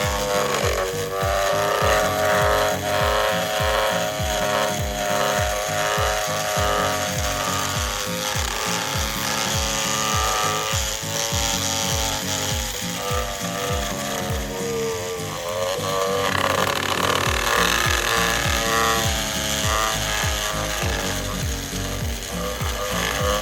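A rotary tool with coarse and fine sanding rolls grinds inside a FAST LSXR intake manifold, a loud continuous rasping whir with rapid rhythmic chatter that varies in pressure throughout.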